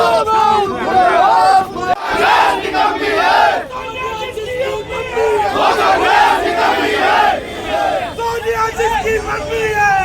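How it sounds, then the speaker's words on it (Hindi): A crowd of political protesters, BJP youth wing supporters at a Congress office in Mandsaur, shouts slogans together in loud, rhythmic bursts with overlapping voices and babble throughout. "आखिर ये क्या नारेबाजी हो रही है?"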